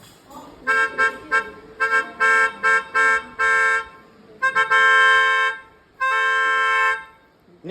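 A person imitates a musical multi-tone wind-tone car horn, with a run of short rhythmic toots followed by two longer held blasts, loud and close.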